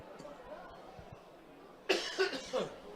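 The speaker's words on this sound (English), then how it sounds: "I beg your pardon for the coughing." Coughing from a rugby commentator during a live match broadcast: a short burst of two or three harsh coughs against a murmuring crowd and room background.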